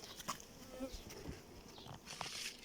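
Honey bees buzz close and continuously while hive frames are transferred into a new hive, a dense shifting hum with occasional louder passes and faint handling sounds.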